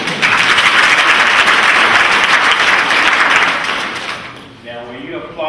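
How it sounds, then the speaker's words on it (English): A convocation audience applauds loudly and steadily for several seconds, then the clapping fades out and a voice starts to speak. "Now, were you applauding him?"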